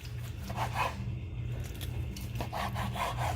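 Knife slicing a grilled rib roast into quarter- to half-inch pieces, a continuous close sawing scrape with repeated back-and-forth strokes over a low background hum, no talk.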